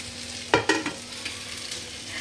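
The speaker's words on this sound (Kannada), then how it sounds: "ಸೊ ಹಾಗೆ ಫಿಶ್ ಫ್ರೈ ಮಾಡ್ತಾ ಇದ್ದೇನೆ ಅವನಿಗೆ" Fish fries in a pan with a steady, gentle sizzle. A couple of quick scraping stirs rise briefly near the start.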